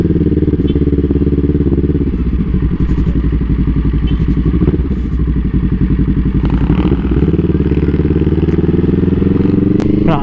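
A motorcycle engine drones steadily and loudly throughout a ride along the coast in Baler, Aurora, with a constant rumble and wind buffeting. Brief faint voices come through under the engine noise.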